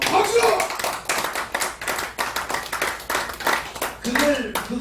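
A seated audience at a history lecture claps in a brisk, steady patter of hands, close and fairly even throughout, with a voice speaking faintly near the end.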